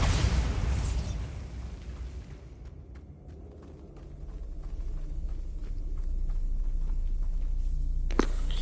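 A Bombarda spell goes off in Hogwarts Legacy with a loud broadband blast and a low rumble, which fades into a sustained deep roar with scattered small crackles. A sharp pop lands near the end.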